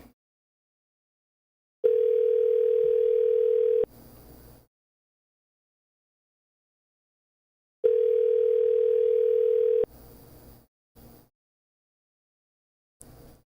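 A telephone dial tone sounds alone in two steady two-second bursts separated by silence, each followed by brief faint clicks.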